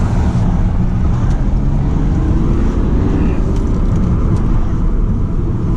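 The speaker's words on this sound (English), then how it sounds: "Yeah, you can hear that induction kit." A Stage 1 tuned BMW E60 535d diesel with an induction kit pulls hard under acceleration, a loud steady interior drone of engine and intake rumble with road noise throughout.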